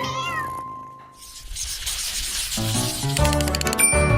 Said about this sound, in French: mon petit chat aime beaucoup se promener